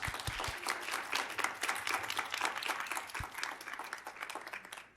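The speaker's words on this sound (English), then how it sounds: "just want to give you a round of applause" Diners at a women's dinner event break into brisk, crowded applause, sharp overlapping claps holding steady before trailing off at the close.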